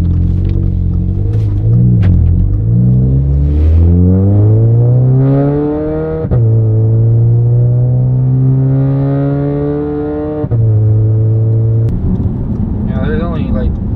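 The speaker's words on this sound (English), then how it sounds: "Feels like it has a good idle, so we're gonna get a little bit of gas and see what happens." An Audi/VW engine freshly treated with valve cleaner idles, then revs up and down in a rising and falling whine, loud and close, with people talking over it.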